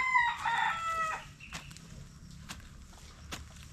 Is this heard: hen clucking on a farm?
yes